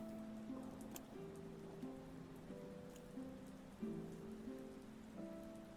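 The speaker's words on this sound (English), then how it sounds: "It's raining" Minecraft rain patters softly and steadily as a continuous wash, with faint tonal music notes drifting over it and no speech.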